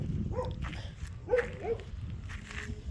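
A dog gives a few short, faint barks spaced a second or so apart, heard over a low rumbling background.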